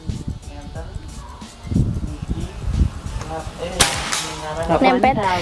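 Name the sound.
PCP Bocap FX airgun shot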